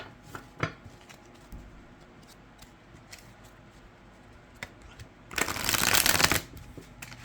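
A tarot deck is riffle shuffled, with scattered soft card taps and handling clicks before a dense, crisp burst of riffling near the end, close and fairly quiet.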